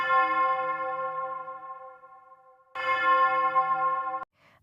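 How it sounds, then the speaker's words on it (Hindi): Two rings of a small hand bell in a horror story, each a clear metallic tone with a long ringing decay, the second struck after a pause and cut off abruptly, fairly loud with no voices. "अचानक घंटी की आवाज आई।"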